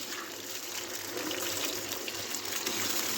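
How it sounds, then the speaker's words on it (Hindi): Chicken pieces sizzle in hot oil in a karahi for Peshawar-style charsi chicken karahi, a steady, dense bubbling hiss with no talk over it. "अब हम चिकन को करेंगे फ्राई।"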